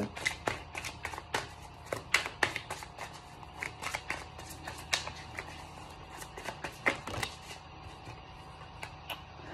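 Tarot or oracle cards being shuffled and drawn for a card reading, a close, quiet run of soft papery flicks and taps in an irregular rhythm over faint background hum, with no talking.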